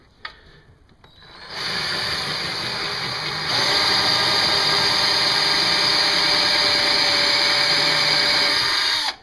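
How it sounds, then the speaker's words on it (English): A power drill starts after a few clicks, then whines at a high, steady pitch, rising in intensity partway through as the bit grinds into a titanium Snow Peak pot, loud and close. "I'm going to drill right down the center"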